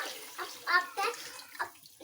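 Water pours from a jug into a pot of karhi batter with onions and spices, coming in several short splashing gurgles, close and fairly soft.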